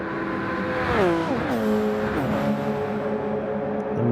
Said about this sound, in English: watching the cars fly through here